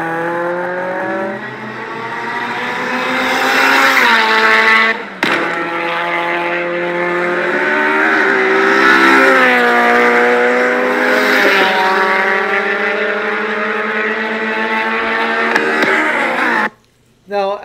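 A loud Abarth race car engine revs and holds high, rising and falling in pitch for most of the clip, with a sharp exhaust backfire crack partway through as rich mixture ignites in the exhaust.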